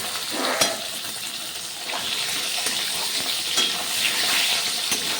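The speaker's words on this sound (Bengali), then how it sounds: "নেড়ে চেড়ে নিচ্ছি হালকা ভাজবো সবজি" Vegetables including capsicum are stirred and lightly fried for Assamese rohu fish tenga, a soft steady sizzle broken by occasional sharp clicks of the spoon against the pan.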